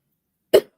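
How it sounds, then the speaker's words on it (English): A single short, dry cough, close and sharp, in otherwise silence. "I still got this dry, lingering cough"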